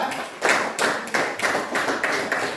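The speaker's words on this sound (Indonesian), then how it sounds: "Kita berikan aplaus untuk kelompok 2" A classroom audience applauding a group after their presentation, a burst of close hand claps in several uneven waves with no talking.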